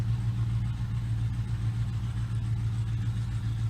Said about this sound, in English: The 2010 Chevy Camaro.